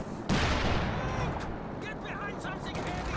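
Gunfire and artillery blasts from a Company of Heroes 2 battle, with an Easy 8 tank firing through hedges, a sharp loud shot followed by dense overlapping rumble and crackle.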